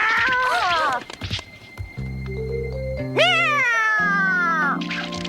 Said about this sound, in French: Qu'est-ce qu'il fait là, ce chat?